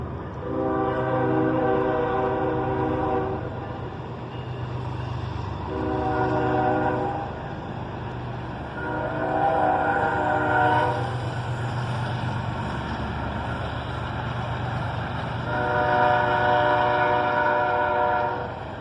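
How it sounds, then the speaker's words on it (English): A Norfolk Southern freight train rumbles past steadily while its horn sounds four long blasts in sequence, loud and sustained over the low rolling noise. "a Norfolk Southern train come by"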